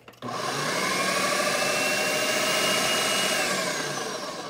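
An electric mixer whirs steadily through quinoa muffin batter in a bowl, a loud, continuous motor whine that starts abruptly and holds for several seconds with no talking.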